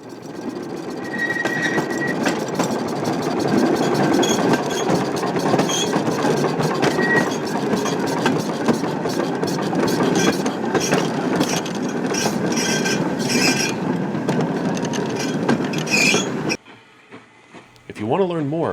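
An East Broad Top railroad train rolls back into the loading area in central Pennsylvania in the fall, with a loud steady rumble and clickety-clack of wheels and faint squeals, then cuts off near the end as the noise drops away.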